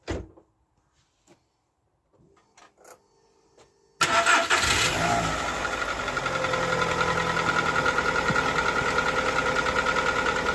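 A Skoda Fabia left sitting for a while cranks after a few quiet clicks, catches abruptly and settles into a loud, steady running drone, close by with no talking.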